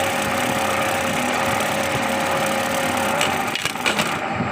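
Sewing machine stitching a buttonhole at slow speed gives a continuous mechanical hum with a steady motor whine, slight rattles near the end.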